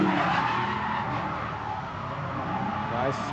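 Drift car tires squeal and skid under heavy throttle at a street-class drifting competition at Redding Motorsports Park, a loud continuous hiss of rubber mixed with engine noise and crowd ambience.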